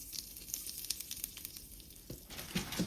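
Asafoetida dropped into hot oil over a low-to-medium flame, the tempering for vagharela mamra, crackles with a quiet, steady sizzle broken by small pops, heard alone and close.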